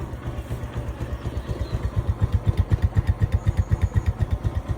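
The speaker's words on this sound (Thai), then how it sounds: "ฟังเสียงเบิ้ง ฟังเสียงเบิ้ง" A motorcycle engine revving in quick, steady repeated blips, growing louder toward the end, close by and without speech over it.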